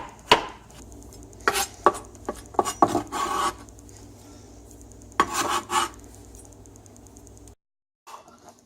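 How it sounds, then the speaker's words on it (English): Mushrooms being finely chopped with a knife on a cutting board: bursts of quick, sharp taps in clusters, pausing between runs, close and clear. "I'm going to go chop up these mushrooms"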